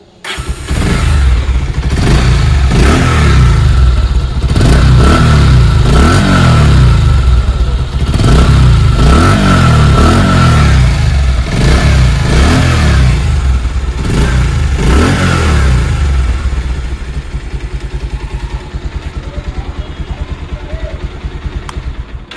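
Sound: Bajaj Pulsar motorcycle engine revving

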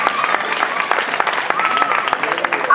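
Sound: applause for the winning goat at a palio

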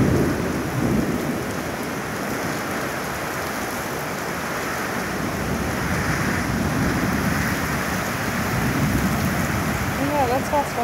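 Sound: heavy rain in a storm

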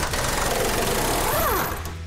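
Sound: impact wrench tightening car K-member bolts

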